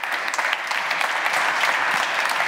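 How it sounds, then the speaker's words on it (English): A conference audience claps for a speaker, a thick, even roar of applause filling the whole stretch, close and loud. "Please give a big round of applause to Daniel Korski."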